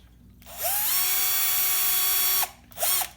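A power drill whines steadily for about two seconds while boring holes for a homemade toy shower, then gives a second short burst after a brief pause, close and loud.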